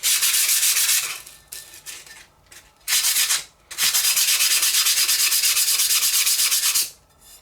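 Fine 180-grit sandpaper rubbed lightly by hand over the old gasket seat of a Polti steam cleaner, rapid back-and-forth hissing strokes in several bursts with short pauses between them, close and fairly loud.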